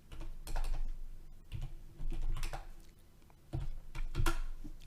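Bursts of keystrokes on a computer keyboard as a note is entered for a basic statistics exercise, clicking in several quick clusters with short pauses, close and fairly clear.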